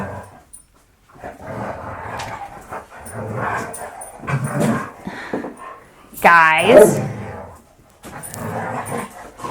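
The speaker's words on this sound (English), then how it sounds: "so you can see my poodles being silly" Poodles whimper and let out a short yelping bark burst between stretches of a person talking nearby.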